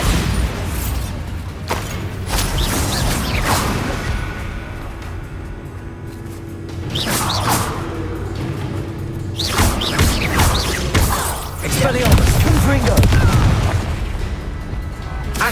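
Bombarda explosion spell in Hogwarts Legacy during a spell-heavy duel, producing repeated heavy booms and crackling bursts in quick succession, loud and close, over a constant low rumble for about fifteen seconds.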